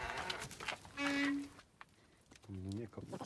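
Goats bleat nearby in two drawn-out calls with a pause between them, mixed with short bursts of people talking outdoors in Czechia or Slovakia.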